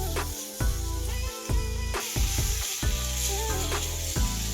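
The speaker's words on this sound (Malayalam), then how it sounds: "ഇതിലേക്ക് നമുക്ക് ഇത്തിരി കണവ് ഞാൻ ചെറുതായിട്ട് കൂടി കട്ട് ചെയ്ത് വെച്ചിട്ടുണ്ട് കേട്ടോ അതുകൂടി ഇട്ട് നന്നായിട്ടൊന്ന്" Small cut pieces of squid hit a hot pan and sizzle loudly, with repeated scraping stirs and clatters of a utensil breaking up the steady frying hiss.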